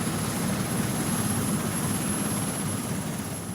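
A helicopter carrying a slung magnetometer on a magnetic survey flight gives off a steady, continuous rotor and engine roar.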